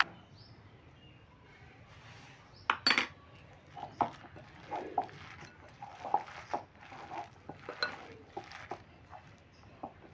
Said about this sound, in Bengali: এবার সমস্ত উপকরণগুলো আমি ভালো করে প্রথমে চামচে করেই মাখিয়ে নিচ্ছি।